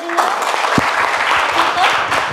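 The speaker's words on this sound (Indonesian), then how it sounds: "Kasih aplaus buat kelompok 3 dulu." A classroom audience claps for group 3, a dense, close patter of many hands mixed with murmuring voices.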